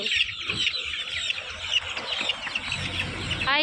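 Fancy chickens at a market stall cluck and squawk in a dense, continuous chorus, some calls sharp and close, with a steady murmur of birds behind them.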